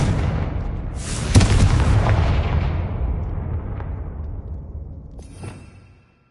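A Confringo spell blast in Hogwarts Legacy goes off as a loud, close boom, with an explosion crack followed by a long rumbling decay that fades out over several seconds.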